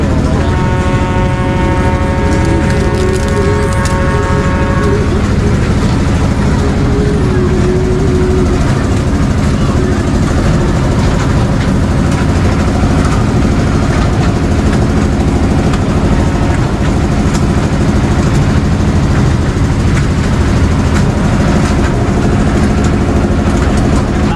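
A kiddie train ride at the Tamiang Perdana night market runs with a steady mechanical rumble under busy fairground noise, opening with a few seconds of sustained tonal ringing before settling into continuous engine drone.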